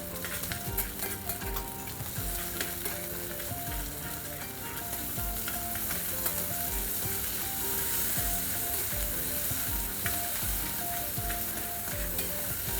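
Shallots sizzle in a sauté pan with a steady, unbroken crackle that lasts throughout, while sustained tonal sounds ring over the frying.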